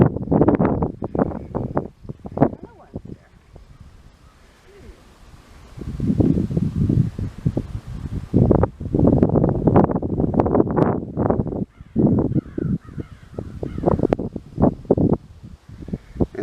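Breezy wind gusting over a microphone on a sunny forest hiking trail in Boyne Valley Provincial Park, rising and falling in rough bursts with a calmer lull in the middle.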